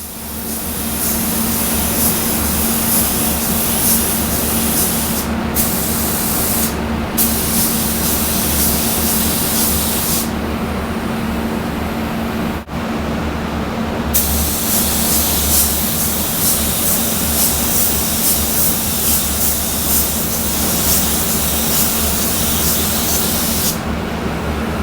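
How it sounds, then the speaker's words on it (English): A spray gun lays metallic paint onto a car fender in long, loud, continuous hissing bursts, cut by a few short pauses between passes, with a steady compressor hum underneath. "we're just going to paint this edge on a normal coat like you would paint anything"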